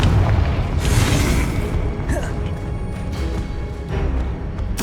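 In the Hogwarts Legacy video game, a Confringo blasting spell goes off in a loud, rumbling explosion. Several sharper bursts follow over a few seconds, dense and booming throughout.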